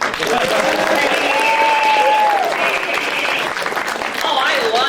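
Convention crowd at a fan Q&A panel applauding loudly and continuously, dense close clapping with cheers and whoops rising above it throughout.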